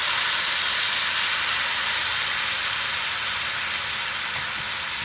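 Coconut milk simmering with curry leaves in a hot pan while making Indian-style fried fish, a dense, even sizzle and bubbling hiss that carries on steadily and close up, with no talking.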